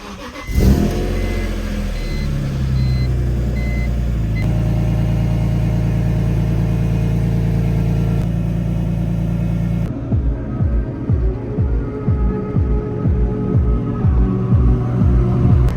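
BMW M3 engine heading to a Cars and Coffee meet, first a loud sustained rev with a steady drone, then settling into a lumpy, pulsing idle with rhythmic throbs, close and clear with no talking.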